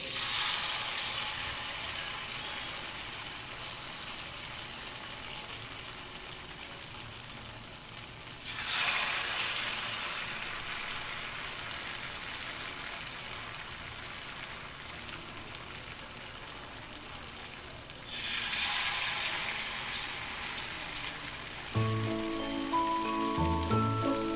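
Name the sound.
paneer pieces in flour batter frying in oil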